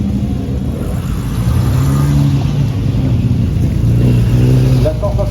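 A vintage Porsche 356 coupé from 1963 races past on the Pau-Arnos circuit during the Tour Auto, its engine droning loudly and steadily with a rising pitch toward the end, a commentator's voice faintly mixed in.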